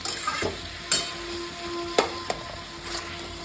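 Frozen peas go into a pan of frying cabbage for a vegetarian dish, giving a steady soft sizzle broken by a few sharp clacks of stirring against the pan.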